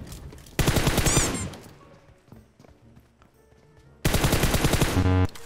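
Gunshots from a battle royale video game arrive as dense rapid bursts at the start and again near the end, with quieter scattered shots and game sounds between.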